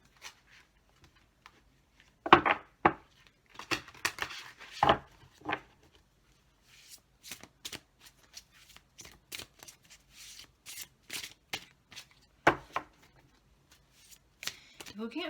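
Oracle cards being shuffled by hand, a series of soft papery riffles and slaps in irregular bursts, close and quiet with pauses between.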